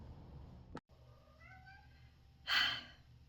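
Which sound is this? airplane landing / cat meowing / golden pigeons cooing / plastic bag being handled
cat meowing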